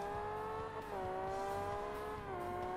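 A fast race car engine in the Forza Motorsport video game revs hard and climbs steadily in pitch, with brief dips at gear changes, loud and continuous with no talk.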